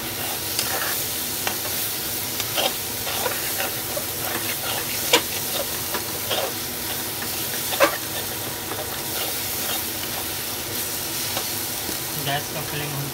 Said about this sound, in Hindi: इसको अच्छे से टमाटर गलने तक हमें भूनना है।